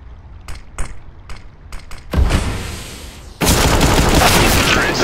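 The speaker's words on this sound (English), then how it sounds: "Is he shooting me?" Gunfire in Counter-Strike: Global Offensive, a series of sharp close shots followed by sustained loud bursts of rapid fire that fill the second half.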